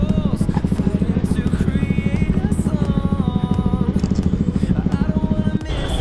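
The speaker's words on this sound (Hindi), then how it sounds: "फिर मोटो ब्लॉग की आवाज़ सुना दे कैसी आ रही है अपनी एग्जॉस्ट में" A motorcycle fitted with a very loud aftermarket exhaust idles with a deep, throbbing burble, steady and close throughout.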